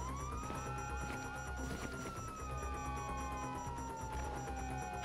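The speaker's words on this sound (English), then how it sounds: "you hear that? Sirens!" Police sirens wailing in the GTA 5 video game, a steady rising and falling tone over a dense background of game noise, moderately distant, no talking.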